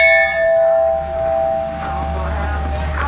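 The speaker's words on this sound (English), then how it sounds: "I think we'll start the day by ringing the bell" The Meruhen Bell at Sapporo Kokusai ski resort is struck once at the start, and its clear tone rings and fades over several seconds against a steady low outdoor rumble.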